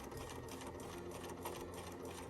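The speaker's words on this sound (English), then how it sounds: "And then we sew all the way down the length of the bag" A sewing machine hums at a steady, rapid stitching rhythm as it runs a straight quarter-inch seam down the edge of a drawstring bag, close and alone.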